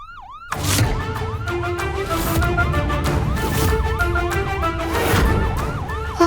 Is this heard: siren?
yes